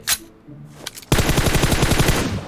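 After a short pause with a few faint clicks, a loud, fast, sustained burst of automatic gunfire from the mobile game PUBG Mobile starts and continues to the end.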